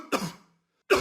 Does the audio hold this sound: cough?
yes